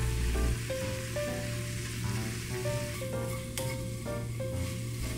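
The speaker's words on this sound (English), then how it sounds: "Keep cooking with low heat all the way. And cook until most of the liquid is gone." Dashi ingredients simmer down in a pan over low heat, giving a steady soft sizzle and bubbling throughout, with faint crackles and occasional light stirring, all heard close up with no voices.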